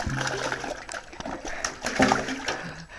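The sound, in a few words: dog jumping into water with a splash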